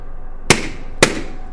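Two sharp gunshots ring out about half a second apart in a spooky radio drama, each a loud close crack with a short decaying tail over a quiet background.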